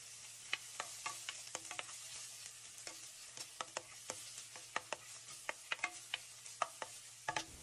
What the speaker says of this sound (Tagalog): Naglagay ako ng konting mantika at ilalagay ko na ang sibuyas.